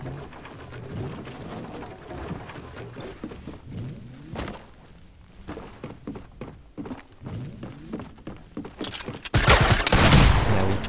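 Shotgun fire in the Fortnite video game comes as scattered sharp blasts and thuds among footsteps and game clatter, ending in a louder sustained burst of noisy roar near the end.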